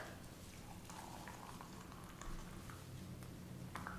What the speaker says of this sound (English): Pour hot water